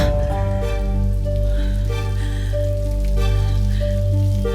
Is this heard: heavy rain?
yes